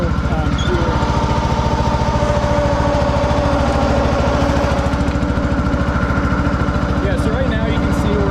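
A John Deere Hydro 165 lawn tractor engine runs at about half throttle, a loud, steady, close mechanical drone with a rapid regular pulse, and speech joins faintly partway through.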